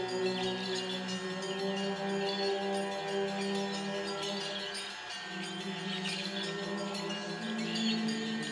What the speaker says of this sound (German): Die können die Glocken noch ein bisschen läuten.